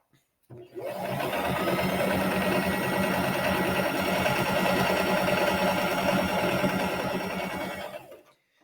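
A sewing machine back stitching fabric triangles together, a steady whirring motor with a rapid needle rhythm that starts abruptly, runs evenly for several seconds close up, then stops.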